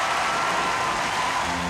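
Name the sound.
applause in Motu Patlu cartoon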